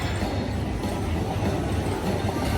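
Train feature on a high-limit Buffalo Luxury Line slot machine, a steady, moderately loud rolling rail rumble with a clickety-clack character running the whole length, with no talk over it.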